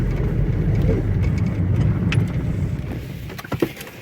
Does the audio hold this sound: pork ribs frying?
no